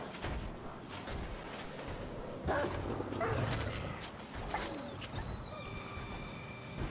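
Dog barking and yipping in Wolfenstein: The Old Blood, brief calls over a steady bed of game ambience and music.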